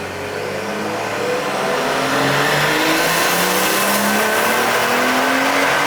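BMW engine tuned with a JB4 on E60 ethanol blend at 32 PSI boost, revving hard under load with a rising, loud, continuous roar and climbing pitch, no voices.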